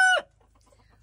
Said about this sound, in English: Here are Frosty and Marvin, two of the roosters I have.